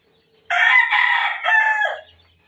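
A gamefowl rooster gives a single loud, close crow of about one and a half seconds, rising then breaking into a drawn-out final note, with no other sound around it.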